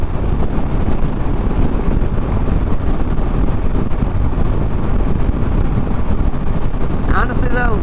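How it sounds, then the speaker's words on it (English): Constant loud wind roar and buffeting battering the microphone while riding a Honda Rebel 500 motorcycle at freeway speed, unbroken throughout. "you kind of just accept the wind"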